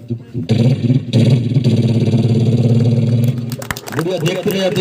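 A performer's voice mimics a motorbike approaching and riding past at a mimicry show in an auditorium, a steady buzzing engine drone held for several seconds before breaking off into vocal sounds.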